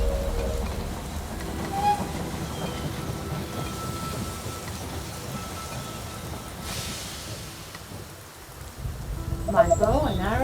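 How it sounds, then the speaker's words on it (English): A train arriving at a station in the strategy game They Are Billions, a steady rumbling rail-car drone with clattering texture under the game's ambient sound, swelling louder near the end. "The train has arrived at the station."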